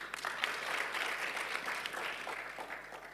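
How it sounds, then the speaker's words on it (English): Audience members at a Rwandan banking strategy panel session clap together in a soft, even patter that sounds distant and fairly faint throughout, with no voices standing out. "A hand clap for her, please."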